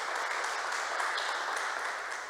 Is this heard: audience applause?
yes